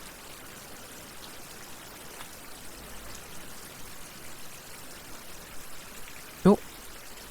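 Water poured from one container into another in the survival video game Survival: Fountain of Youth gives a steady, soft splashing rush that runs throughout, ending with a brief sharp clunk near the end.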